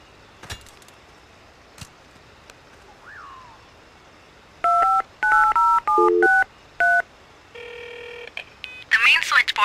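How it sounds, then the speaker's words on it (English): Telephone keypad dialing in the Jurassic Park Trespasser video game: a rapid sequence of distinct touch-tone beeps, followed by a steady multi-tone signal and a burst of chirping, heard clearly over a quiet background. "Let's make a phone call first."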